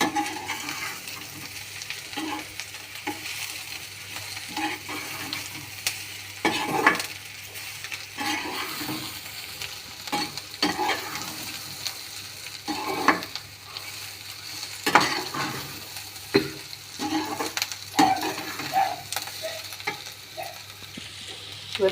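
Beetroot and onions sizzle in a pan while a ladle stirs and scrapes them, producing repeated scraping strokes over a steady frying hiss at close range.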